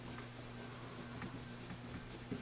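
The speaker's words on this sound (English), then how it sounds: "I'm rubbing both sides of the fret as well as the top of it" Soft, steady rubbing on guitar frets of an Ibanez, working both sides and the top of each fret, with faint repeated strokes and a low background hum, no talk.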